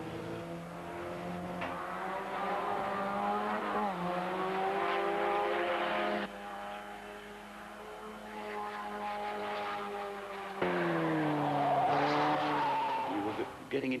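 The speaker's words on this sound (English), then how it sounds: "Getting into a sort of lurch oversteer into the corner, and you were doing it lap after lap after lap." A race car engine rises and falls in revving, harmonic sweeps as the car is driven hard into corners on a circuit, mid-distance and fairly loud, with someone talking over it at times.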